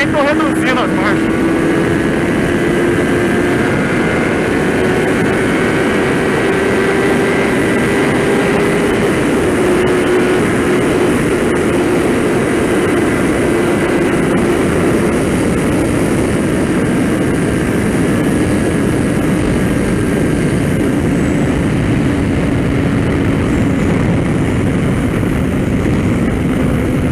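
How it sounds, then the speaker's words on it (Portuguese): Loud, steady engine roar of a Kawasaki Ninja ZX-10R sport motorcycle at about 200 km/h, with a sustained rising drone and heavy wind rush throughout. "Cara, 200 nessa moto aqui é mato."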